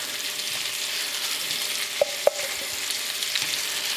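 Prawns fry in a hot pan with herbs and garlic butter, giving a steady close sizzle, with two sharp pops about two seconds in.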